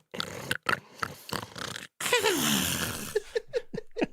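A voice imitates snoring for a character asleep in a trash heap with welding goggles worn as a sleep mask, giving a few close, throaty snorts and then a long rasping snore followed by short grunting puffs.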